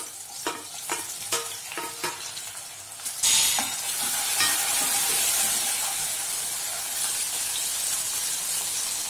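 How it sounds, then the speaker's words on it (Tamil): Tomato, onion and ginger-garlic paste sautéing in a pan. A few clicking stirs come first, then a loud, steady close sizzle rushes in and holds to the end. "இஞ்சி பூண்டு பேஸ்ட் வெங்காய தக்காளி நல்லா வதங்கணும்"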